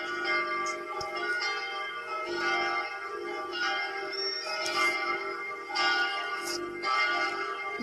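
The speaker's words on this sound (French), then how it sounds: "Voilà le plénium avec 3 cloches de volée." Three swinging cathedral bells of Saint-Étienne in the game Block Craft 3D peal together in full, overlapping strikes arriving in an uneven rhythm and a rich ringing tone, with no voices.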